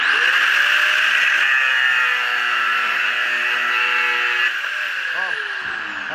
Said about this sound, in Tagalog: itry naman natin ngayon, angle grinder